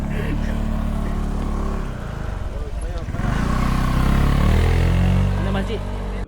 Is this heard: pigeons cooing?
no